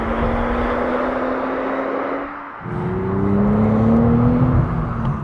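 A 2023 Nissan Z with a manual gearbox drives along, its engine a steady loud drone that dips briefly as if for a gear change, then rises again under load.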